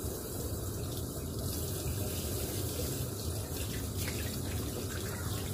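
Tap water runs steadily into a sink while a slippery snakehead fish is washed and cleaned, a continuous close splashing hiss with no talk.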